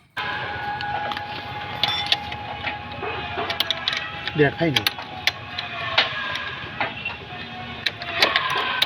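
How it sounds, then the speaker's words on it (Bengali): Wrench tightening the footrest nut and bolt while fitting a steel hook on a Honda Shine motorcycle: a steady run of close metallic ratcheting clicks and small clanks, with a brief cluster of sharper taps midway and background hum throughout. "এটা টাইট দিতে গেলে একটা ডাল রেঞ্জ দরকার"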